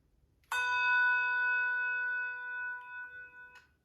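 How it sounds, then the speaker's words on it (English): A bronze handbell is struck once and rings a clear, sustained metallic tone that slowly fades over about three seconds, then a soft damping touch ends it. "All the way to the end of the ringing of the bell."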